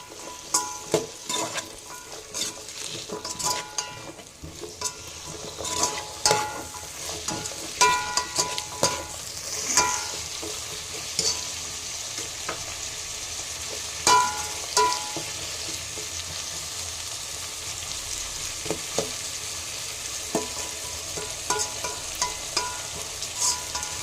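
Carrots, peas, mint and other vegetables stirred and tossed in a hot frying pan for vegetable rice: a steady close sizzle with repeated scraping and clinking strokes of a spoon throughout, no talking.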